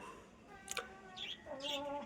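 Pet pigeons in a loft give soft, faint chirps and coos, a few short calls spread over a couple of seconds against quiet background.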